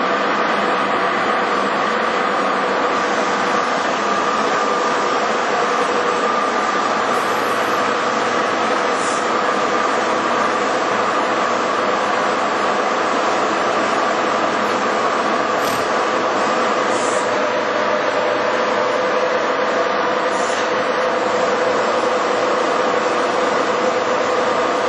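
A 14,500-pound American Hole Wizard 4' x 15" radial arm drill with a 20 horsepower main drive motor runs its power elevation, giving a loud, steady mechanical drone and whine that holds without a break throughout.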